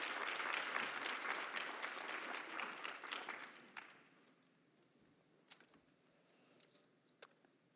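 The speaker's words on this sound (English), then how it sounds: "Please give her a round of applause as she comes." An audience at a health summit applauds a speaker as she comes forward, the clapping loud at first, then thinning out after a few seconds into scattered claps, footsteps and faint room noise.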